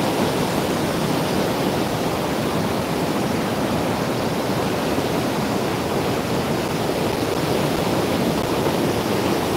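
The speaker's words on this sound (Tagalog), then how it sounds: "Malakas yung agos mga idol." Strong river current in flood, a loud, dense, unbroken roar of rushing water that fills the whole span evenly, close up and with no voices.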